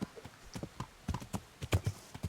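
A horse's hooves clip-clop across a plowed field in an uneven, fairly quick rhythm of soft, close thuds, heard on their own at low level.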